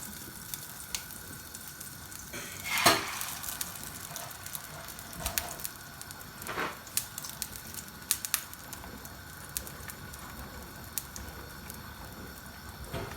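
An egg frying in a lightly oiled pan for a Korean street-style egg sandwich, a soft steady sizzle with faint crackles and a few brief louder spatters, no voices.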